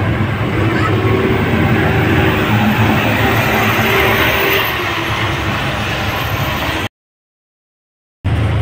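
A tour bus carrying a group from Maharashtra to Gujarat rolls along the road, giving a steady, loud, broadband road and engine rumble for about seven seconds before the sound cuts out abruptly.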